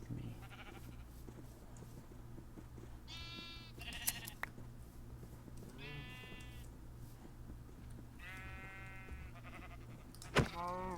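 Sheep bleating in a Minecraft-style video game, several clear, wavering bleats spaced a couple of seconds apart over a low background hum, with a sharp click near the end.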